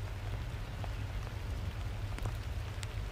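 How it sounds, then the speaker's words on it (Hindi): Rain falling in the Shumai Top area of the Usheri valley in Upper Dir, Pakistan, a soft steady patter with scattered faint drops over a low rumble, with no talk. "थोड़ी देर क्याम के बाद वापसी पर बारिश शुरू हो गई"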